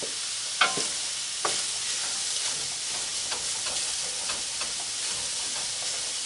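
Sausage frying in a pan for sausage gravy, a steady bright sizzle throughout, punctuated by a few sharp scraping clicks of a utensil stirring and pushing the meat around, close and clear with no talking.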